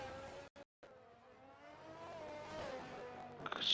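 A Formula 1 car in F1 22 racing through the corners of the Mexico circuit, a faint engine whine that climbs in pitch as it powers out of a right-hander, with a brief dropout near the start.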